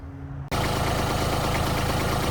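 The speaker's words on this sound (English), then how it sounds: "the wee little Kubota doesn't quite have enough guts" A small Kubota tractor engine runs steadily with a loud, even diesel chug after a brief quieter idle, heard close up with no talk.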